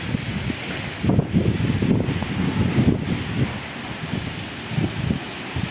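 Storm wind roars and gusts across a village rooftop in Khulna, buffeting the microphone in loud, uneven bursts with a constant rushing hiss behind it and no voices.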